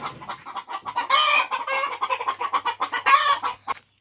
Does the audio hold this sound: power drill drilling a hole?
no